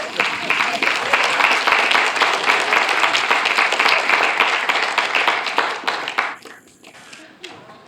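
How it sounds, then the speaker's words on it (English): A Christmas play audience breaks into brisk, loud applause for a band taking the stage, individual claps sharp and rapid, sustained for about six seconds before fading quickly to near silence. "Let's give them an applause."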